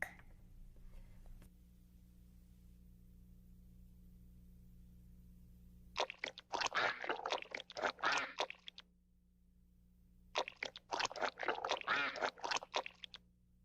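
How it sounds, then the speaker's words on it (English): Ducks in a neighborhood animals video quack in two loud, busy bursts of repeated calls, the first around the middle and the second near the end, separated by near silence, with a faint low hum beneath. "Duck."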